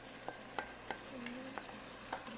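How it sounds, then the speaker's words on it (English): Canned tomatoes going into a sizzling pan for a wagyu beef ragu, with a soft steady fry and a few light stirring clicks and taps close by. "at this point, I'm going to add in my canned tomatoes"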